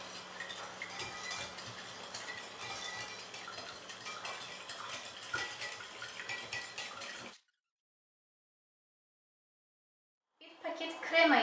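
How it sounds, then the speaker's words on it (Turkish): Spoon clinking against a container while stirring sugar into hot water to dissolve it, a steady busy clatter of close metallic taps that stops abruptly, followed by a brief pause. "Karıştırıyorum erimesi için."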